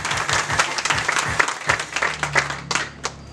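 Applause from a church congregation praising God, dense clapping with a few louder claps standing out, fading toward the end.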